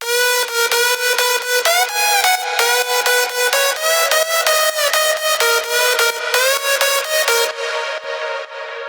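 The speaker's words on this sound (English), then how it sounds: "And then the fifth layer is my main leads" A bright, powerful synth main lead from a progressive house track plays a rapid rhythmic melody of short repeated stabs, loud and upfront, cutting off near the end.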